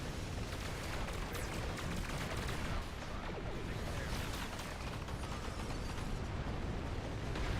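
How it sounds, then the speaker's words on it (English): Pulse phaser dual heavy cannons firing in Star Trek Online, a dense, continuous barrage of loud overlapping energy bursts and booms filling the whole stretch with no pauses. "They are pulse phaser dual heavy cannon."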